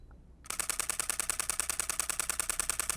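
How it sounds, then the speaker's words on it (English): A Canon EOS M50 mirrorless camera fires its shutter in a fast continuous burst, a rapid, even train of sharp mechanical clicks that starts abruptly after a brief quiet moment and continues steadily, close and loud. "let me set my shutter speed so that I can shoot at the fastest possible"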